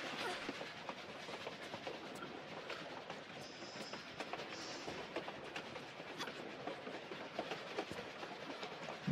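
A train in a Tomb Raider custom level, Coyote Creek, rumbles steadily with a continuous rolling roar and scattered rhythmic clicks and clatters from the rails, loud and close throughout, with no talk.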